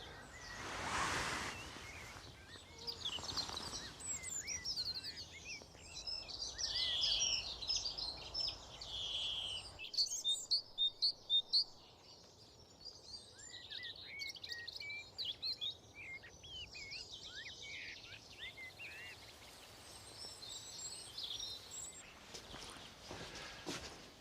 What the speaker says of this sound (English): Just sitting and being surrounded by this rich music of birdsong never fails to delight.